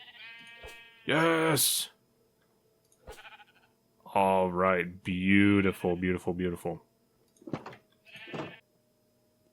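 Minecraft sheep bleat several times in quick, wavering cries, loud and close, interleaved with someone talking excitedly.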